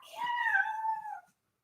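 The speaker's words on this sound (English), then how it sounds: "And the cat needs to go outside." A domestic cat gives a single drawn-out meow lasting just over a second, close and clear with a falling pitch, alone in a quiet room during a floor-based core strength yoga session.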